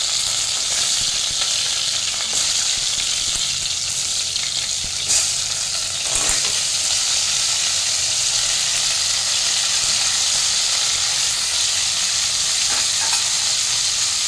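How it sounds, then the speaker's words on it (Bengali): Crabs frying in hot mustard oil, a loud, continuous sizzle and hiss close by with a few sharper pops, steady throughout. "এবার আমি কাঁকড়াগুলো একে একে ছেড়ে দিচ্ছি"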